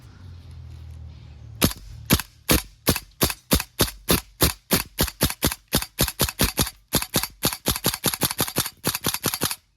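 Tokyo Marui Saiga-12K airsoft shotgun with a drum magazine fires on propane gas, a long rapid string of sharp, loud cracking shots in steady rhythm after a brief pause, close to the listener with no talking.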